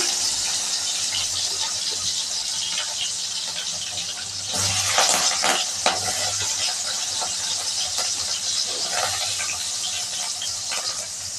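Cumin and onion hit hot oil in a home kitchen, giving a continuous bright sizzling hiss with a louder crackling surge partway through, close by and with no talk.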